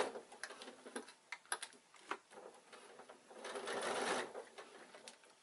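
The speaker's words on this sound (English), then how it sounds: "You can slow your machine down to a really slow stitch if you're not sure." Sewing machine with a walking foot slowly stitching leather-look fabric, giving faint, irregular ticking stitches and soft clicks with a brief denser run near the end.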